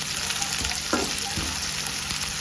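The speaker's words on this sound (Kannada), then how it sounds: "ಮತ್ತು ದೊಡ್ಡದಾಗಿ ಹಚ್ಚಿರುವ ಈರುಳ್ಳಿಯನ್ನು ಹಾಕಬೇಕು. ಜಾಸ್ತಿ ಫ್ರೈ ಮಾಡೋದು ಬೇಡ" Chopped onions frying in a pan for gobi manchurian gravy, a steady close sizzle with a few stirring scrapes, no talking.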